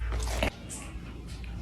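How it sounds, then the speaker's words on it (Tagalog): A single crunchy bite into food, close and fairly loud, with a short crisp burst followed by quieter chewing-like sounds. "Ang isang kagat lang, ha?"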